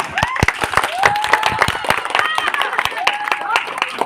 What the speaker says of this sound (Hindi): एक बार और तालियां।